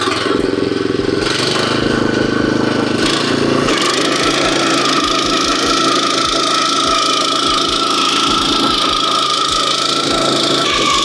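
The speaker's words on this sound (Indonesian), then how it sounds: "Jadi saya mau reverse ke -1. Kemudian rasio gear low dan gas." Firman FTL610W cultivator engine running loud and close, shifted into reverse in low gear, a steady droning roar with a rapid rhythmic knocking beat underneath, plus scraping from the tines working soil.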